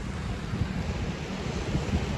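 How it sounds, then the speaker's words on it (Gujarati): Steady, broad roar of the rushing Sabarmati river, continuous and fairly loud, with no voices. "તમને અવાજ સંભળાતો છે પાણીનો"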